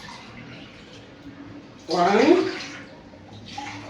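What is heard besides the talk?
water poured into a cooking pot (sufuria)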